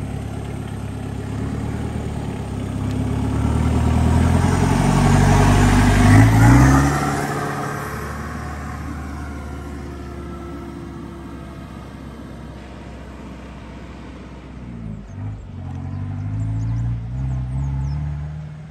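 A car engine revving hard, climbing to a loud peak and then dropping back to an idle before rising again, heard fairly close with no voices over it.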